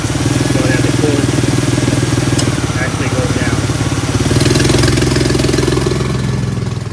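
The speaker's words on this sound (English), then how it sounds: "whenever we're refilling coolant, we want to make sure the engine's on" A 1999-2004 Ford Mustang engine idles steadily with a low, even pulsing rumble, heard up close and loud for the whole stretch.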